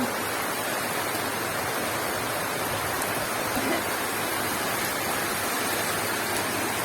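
Rain falls steadily over a village on a cloudy monsoon morning, an even, close hiss that holds constant from start to finish with no voices.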